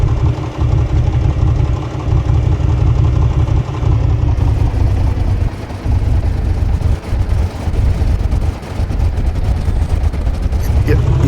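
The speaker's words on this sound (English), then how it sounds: "You can see and hear that cylinder misfiring." A loud aircraft engine with a misfiring cylinder idles roughly with an uneven, stumbling beat that nearly stalls, its deep rumble filling the whole stretch.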